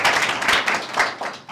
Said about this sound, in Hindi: तालियों के साथ इनका स्वागत करें